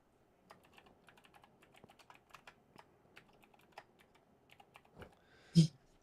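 Rapid clicking keystrokes on a computer keyboard, light and close, in an irregular typing rhythm, ending with one heavier thump of a larger key such as the space bar.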